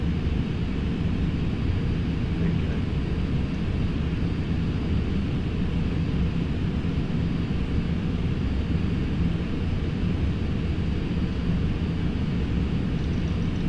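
Boeing 747-100SR Space Shuttle Carrier jet engines at full throttle in the FSX flight simulator, a steady, loud, broadband roar that holds evenly throughout with no talk over it.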